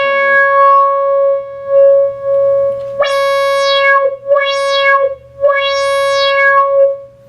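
Resonant Yamaha CS-15 analog synthesizer tone with a low-pass filter sweeping up and down repeatedly, producing squelchy, whistling rises and falls over a steady pitch.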